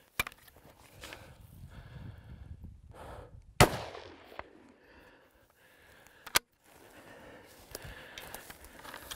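A single sharp rifle shot cracks out in an open hunting setting aimed at a mule deer, a loud close report around the middle followed by a fading echo, with quiet rustling and a few small knocks before and after.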